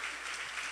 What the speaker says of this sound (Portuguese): vamos louvar o Senhor com um aplauso pela vida deles?